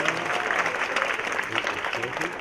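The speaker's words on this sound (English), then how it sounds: "Let's give another big final round of applause" A large audience claps at the Cherry Blossom Queen coronation program of the Northern California festival, a continuous dense roar of many hands that stays steady throughout, with faint crowd noise beneath.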